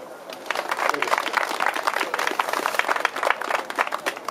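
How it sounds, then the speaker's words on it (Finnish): An audience at an electric car gathering in 2013 applauds, dense close clapping sustained for several seconds with no speech. "annetaan Eliakselle aplodit"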